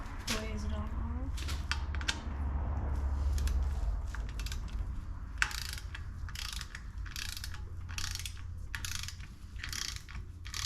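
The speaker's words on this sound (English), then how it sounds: "We'll grab our ratchet with our Allen head that we talked about" A ratchet fitted with an Allen head bit tightens a fastener during a Lobo 250r gull wing install, giving a series of quick clicking bursts in short, regular strokes, close and fairly quiet, with brief talk near the start.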